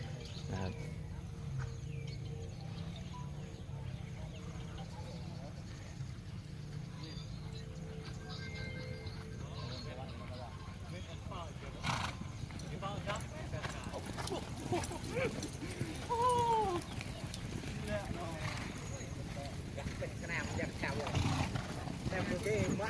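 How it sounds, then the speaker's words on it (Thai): Horses running during exercise, faint hoofbeats and movement in the background under near-constant talk, with a few bird calls and a louder stretch of activity toward the end. "วันนี้ม้าวิ่ง 10 นาทีนะ"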